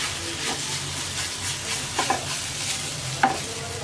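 Jute leaves are stir-fried over high heat, a loud, steady sizzle running throughout with occasional spatula scrapes and taps against the pan close up.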